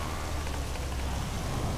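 Steady rain falls in the GTA 5 video game world, an even, continuous hiss of downpour that fills the whole moment with no voices.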